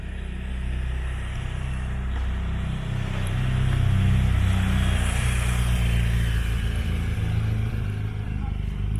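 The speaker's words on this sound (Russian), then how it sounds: "Мотоциклист едет." Motorcycle passing along a working road beside a walking route in an old mountain town, its engine swelling louder toward the middle then easing off, with ambient outdoor noise throughout.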